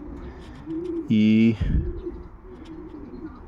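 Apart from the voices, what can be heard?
racing pigeons cooing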